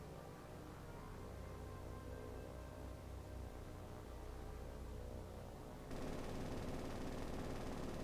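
Naval gunfire at attacking Japanese aircraft in the War on the Sea battleship game, a dense unbroken roar of rapid shots that grows louder and harsher partway through, with no voices.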